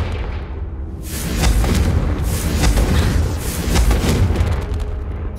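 Confringo blasting spell explosions in Hogwarts Legacy, loud booming blasts with deep rumble and crackling bursts that swell and repeat over several seconds, with no talking.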